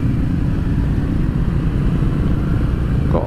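Harley-Davidson motorcycle engine under throttle on the road, a loud steady low rumble close by throughout, with no speech.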